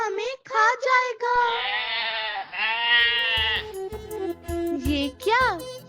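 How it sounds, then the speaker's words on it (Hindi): Cartoon baby goats bleat in a run of high, wavering cries, several short calls followed by longer drawn-out ones, loud and close, with light background music and no talk. "ये तो बकरी के बच्चे हैं"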